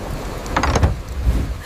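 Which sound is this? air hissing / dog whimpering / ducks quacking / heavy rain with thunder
heavy rain with thunder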